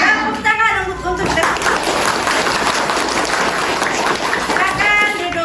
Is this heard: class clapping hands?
yes